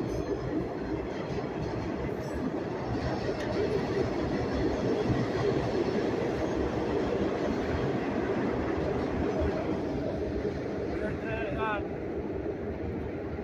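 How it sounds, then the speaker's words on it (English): A Red Line subway train heading away from Boston toward Braintree rumbles past nearby, a loud steady roar of wheels and rail noise that fills the whole stretch without pause, with a few faint higher squeals near the end. "That's the Red Line subway train"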